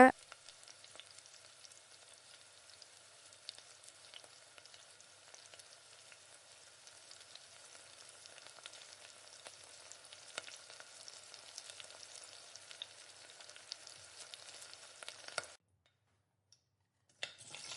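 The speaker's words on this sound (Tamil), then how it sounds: "இப்போ இஞ்சி பூண்டு விழுது பாத்திரத்தில் ஒட்டாத அளவுக்கு நீங்கள் ஸ்டவ்வை முழுமையாக கம்மி பண்ணி வச்சுட்டு நல்லா வதக்கிக்கோங்க." Ginger garlic paste sautéing in a pan over low heat for a vegetable biryani, giving a steady, soft sizzle with faint crackles that runs alone for about fifteen seconds before stopping abruptly.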